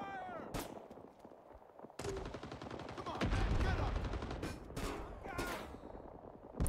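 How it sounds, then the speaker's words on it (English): Gunfire crackles in Rising Storm 2: Vietnam, with a single shot, then dense rapid bursts of automatic fire that build into a heavy barrage with deep booms toward the end, loud and close. "Who's shooting at me?"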